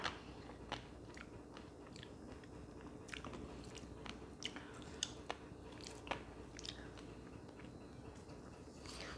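Close, quiet chewing of fresh shrimp roe, with small crisp crunches and soft squishy bites spread irregularly across a few seconds, no talking.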